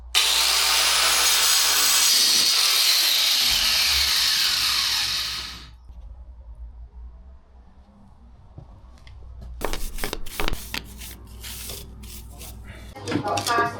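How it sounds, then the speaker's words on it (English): An angle grinder cutting nicks into a concrete floor during a home extension build, a loud, steady high-pitched whine for several seconds that winds down, followed by scattered knocks and handling sounds. "I'll put a few nicks in with this angle grinder"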